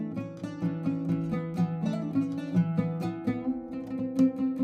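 A melodic instrumental phrase in the Ushak maqam, plucked notes moving stepwise with steady rhythm, played alone and clearly.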